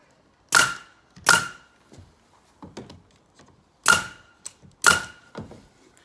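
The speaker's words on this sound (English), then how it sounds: "with our pin gun, 16 gauge stainless steel pins, we're just going to fire 2 in each batten on the tongue" A pin gun fires 16 gauge stainless steel pins into the tongue of timber battens on a garden studio build: four sharp, loud, close cracks, with faint clicks and knocks between them.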